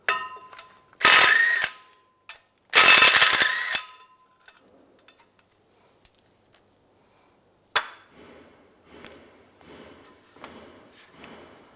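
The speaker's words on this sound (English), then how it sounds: "Now using an 11 millimeter socket," Ratchet wrench with an 11 mm socket backing out bolts during rear main seal work on a 2007-2013 Chevy Silverado: two loud bursts of rapid clicking, then a sharp clank and quieter rustling handling noises.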